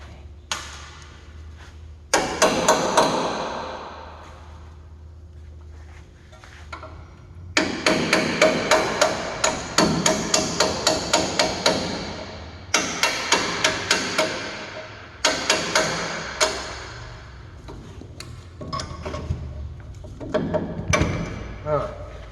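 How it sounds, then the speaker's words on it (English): Hammer blows strike a front strut fastener in an automotive suspension job, ringing metallic taps in quick rhythmic bursts of several hits each, loud and close, separated by short pauses. "I will hit that with a hammer on the actual fastener"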